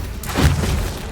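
A short, deep thudding blast from the Bombardo spell in Hogwarts Legacy hits once, low and booming, then fades quickly.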